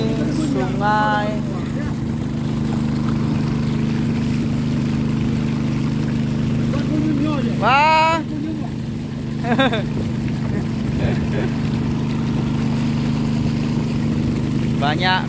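A small boat's engine hums steadily and loudly as the boat travels along the Tulang Bawang river, a constant low drone under a few short spoken phrases.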